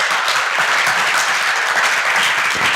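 A crowd at a youth talent day show claps loudly and evenly in a continuous, thick burst of applause that holds at full strength from start to finish.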